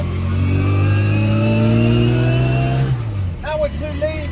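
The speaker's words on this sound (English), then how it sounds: "Oh, misfiring." An Austin Mini engine idles roughly and misfires, running close and loud with a steady throb for about three seconds before a voice speaks as the engine sound drops away.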